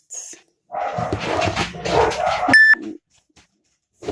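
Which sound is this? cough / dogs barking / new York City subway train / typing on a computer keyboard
dogs barking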